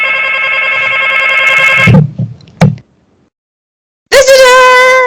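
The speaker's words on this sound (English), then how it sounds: "I think it was just the phone." A telephone rings loudly for about two seconds and stops, followed by a couple of knocking thuds and silence. Then the ring starts again, loud and close.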